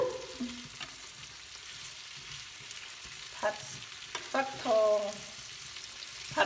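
Young pumpkin stir-fried in a pan: a continuous soft sizzle broken by several scraping stirs and flips, heard close and fairly quiet.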